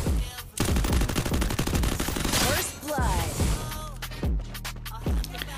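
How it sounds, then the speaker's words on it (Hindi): UMP submachine gun fire in the Garena Free Fire mobile game: loud, rapid bursts of automatic shots, a long stream followed by a few shorter volleys with ringing tails. "ले यूएमपी भर दिया एकदम इसके मुंह पे"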